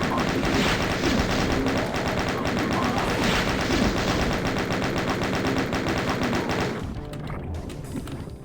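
Chaingunner enemies in Doom rattling off rapid chain gun fire, a fast steady stream of loud gunshots for several seconds before the barrage drops away into quieter game noise.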